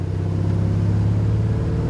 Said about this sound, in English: this 400 sure sounds good